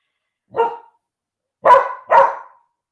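A dog barks three times nearby and loudly, a single bark followed after a pause by two quick barks, with silence between them and no other sounds.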